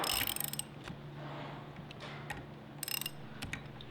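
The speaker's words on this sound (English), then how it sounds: "I will begin making quarter turn passes on each of these screws" A hand wrench clicks and ratchets in short bursts as screws on a Climax KLD series keyless locking assembly are tightened by quarter turns, close-up metallic ticking over a low steady hum.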